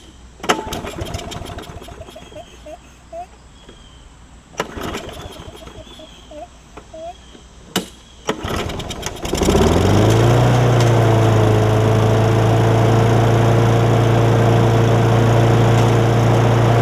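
Briggs and Stratton Quantum autochoke lawn mower engine after a carburetor replacement: a few pull-start attempts with clattering tugs, then the engine catches and settles into a loud, steady running drone.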